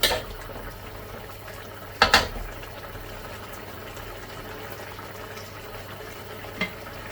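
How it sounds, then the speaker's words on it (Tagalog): Pork adobo bubbling and simmering in a pot, a steady low boil with a couple of sharp clanks or pours near the start and a faint knock later, no talking over it. "Dagdagan natin siya ng tubig kaya."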